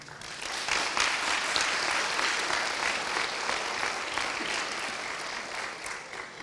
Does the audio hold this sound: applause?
yes